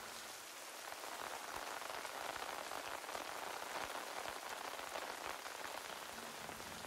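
Steady rain falls on a surface in a continuous, even hiss with dense, close drops. It holds at one level throughout, with no voices.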